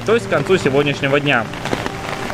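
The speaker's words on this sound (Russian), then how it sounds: "вот этот звук, который вы слышите, это дождь долбит по зонту" Heavy rain from strong Typhoon No. 21 in Japan pounds steadily on a transparent umbrella overhead, a dense patter running beneath a person talking throughout.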